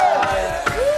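Studio audience on a Chinese talk show cheering and whooping in a loud, continuous crowd roar, with voices rising through a brief burst of noise.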